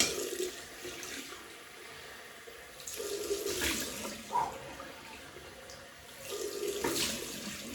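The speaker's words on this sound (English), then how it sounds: "Cold water rinse" Cold tap water runs and splashes into a sink, swelling louder in bursts as a shaving brush or razor is rinsed under the stream, nearby and unaccompanied by speech.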